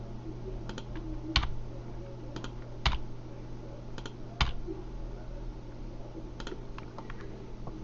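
Sharp, sparse computer keyboard presses tap out over a low steady hum during 3D modeling in Blender, with a few louder single key strikes spaced seconds apart.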